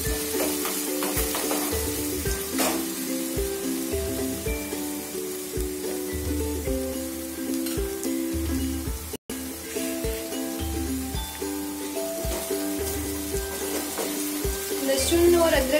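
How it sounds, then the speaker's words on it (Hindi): Ginger garlic paste frying in a pan for a Rajasthani kadhi, stirred continuously: a loud, close, unbroken sizzle with rhythmic spatula scrapes throughout. "इसी में डाल देते हैं ये अदरक लहसुन का पेस्ट, सबको अच्छे से भून लेंगे।"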